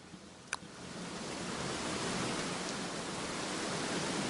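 Steady rain falls in the video game Don't Starve, a continuous broadband hiss that swells slightly after the first half second and holds at an even level, with one brief sharp click near the start and no voices.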